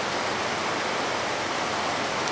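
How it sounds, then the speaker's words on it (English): Rain falls outdoors during cooking in a constant, even hiss of drops on surfaces, loud and close, with no other sounds breaking through. "All right, now it's raining."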